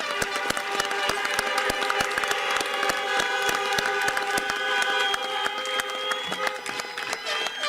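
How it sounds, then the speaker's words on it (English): Sustained applause from a crowd at a high school graduation ceremony, dense steady clapping filling the space from start to finish with no break. "let's give them all one more round of applause"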